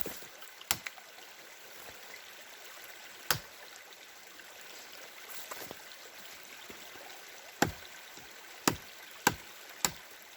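Gransfors Bruk Outdoor Axe chopping wood near a fallen tree, giving sharp, sparse whacks spaced irregularly, some in close pairs, over a steady outdoor background hiss.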